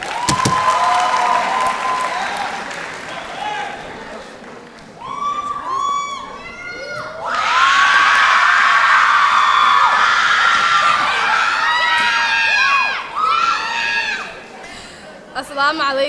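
Graduation ceremony audience for a 12th-grade class of 2018 breaks into loud, sustained applause with cheers and whoops, swelling midway and continuing with crowd chatter and shouts over it.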